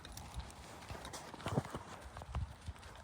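A horse walks on hard ground, its hooves clip-clopping in a loose, uneven rhythm of several steps at moderate distance, fairly quiet, with faint voices in the background.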